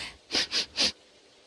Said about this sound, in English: Stop sniffing things.